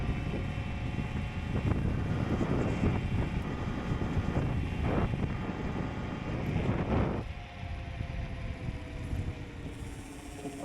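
A Dualtron Forever electric scooter runs a top speed test, heard mostly as heavy wind buffeting over a faint motor whine that rises and shifts, with no speech.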